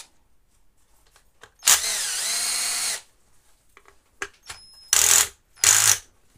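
A 12 V DC cordless drill loosening a tight head nut whirs in several loud bursts: one long run followed by two short ones, separated by quiet pauses and faint handling clicks.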